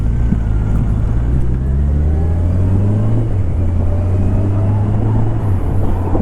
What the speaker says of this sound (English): this guy is very stealth unless you rev a bit hard